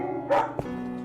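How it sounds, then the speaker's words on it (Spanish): Two quick barks from a dog, a higher yip followed by a shorter lower one, fairly close, over a steady low background hum. "escuchó el ladrido de unos perros"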